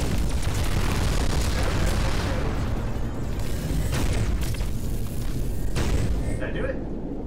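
Bombs burst and boom in Voltron VR amid a loud, dense, continuous battle rumble, with sharper cracks now and then and speech in the mix.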